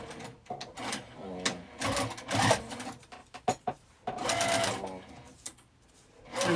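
A sewing machine set to stitch length 3.5 stitches along the edge of a makeup zipper bag in short, close bursts of rapid whirring separated by pauses, with a person talking between runs.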